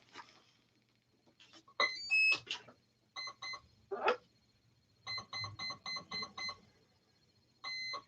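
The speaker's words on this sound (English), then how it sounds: "Let me just calibrate this ESC" A drone motor's electronic speed controller, losing all power, emits a calibration sequence of short electronic beeps: a rising multi-tone chirp, then groups of identical quick beeps in steady rhythm, clear and close against a quiet background.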